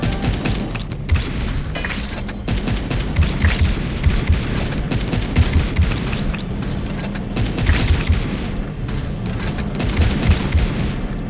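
Grenade blasts going off in the video game Wall World, a dense run of booming explosions and gunfire-like bursts that stays loud and continuous throughout, layered over game sounds with no voice.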